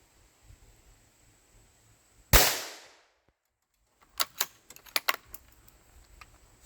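A single sharp, loud gunshot from a scoped rifle being sighted in rings out and decays, followed by a quick cluster of sharp metallic clicks and clacks nearby, the gun being handled.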